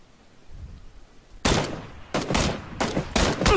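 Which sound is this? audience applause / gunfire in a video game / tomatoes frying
gunfire in a video game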